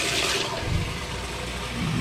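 A washing machine fills with water, a steady rushing gush of running water heard close up and continuous throughout, with no voices.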